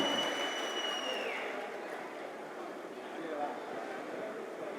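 Steady applause from an audience at a Tamil community meeting welcoming a district leader, a dense even wash of clapping that holds at moderate level throughout, with a faint voice over it at the start.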